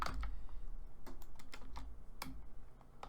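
Comments in Python code typed on a computer keyboard: a close, uneven run of quiet key taps with brief pauses and a few louder clacks, no talking.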